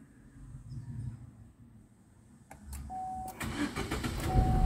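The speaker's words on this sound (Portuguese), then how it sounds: "Deu partida no carro," A Chevrolet Prisma or Onix engine cranks with a few sharp bursts after a push-button start, then catches and settles into a steady running hum, with a brief tone sounding alongside.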